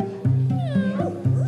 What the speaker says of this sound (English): It purrs, they can feel that.